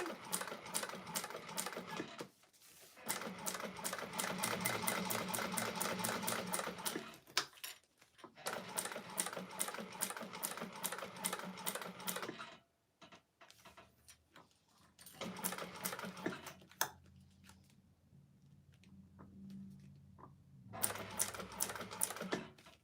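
A sewing machine stitches along the exterior seam of a leather-style clutch wallet, its rapid needle chatter running in long close bursts separated by short pauses.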